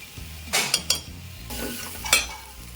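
Spices with chili powder sizzle softly in a pan while a utensil stirs and scrapes, with a few sharp metallic clinks against the pan.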